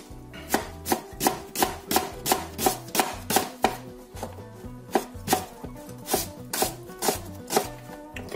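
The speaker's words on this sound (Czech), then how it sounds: "Tak si nakraju všechny cibule" A knife slices onions into half rings on a cutting board, a steady rhythm of crisp, close chops repeating roughly every half second, with no talking.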